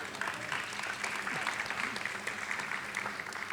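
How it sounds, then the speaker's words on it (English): Audience applause after a glassblowing demonstration by a guest artist, a steady moderate patter of many hands clapping that holds at an even level from start to finish. "Let's give Jeff a big round of applause"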